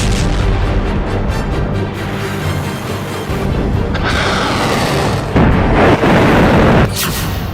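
Missile launch and explosion effects in a news report on Iran firing missiles at Israel: a continuous loud roar and rumble with booming bursts, brightest and heaviest in the later seconds, with no talk over it.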